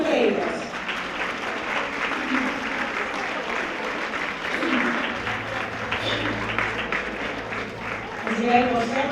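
Audience applause at a tribute to women textile workers in Taradell: sustained, dense clapping from a crowd in a hall, with voices talking over it.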